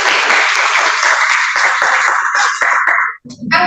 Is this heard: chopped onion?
no